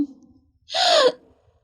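A woman gives a single sharp, breathy gasp that swells and fades within about half a second, close and fairly loud, with faint breathing around it.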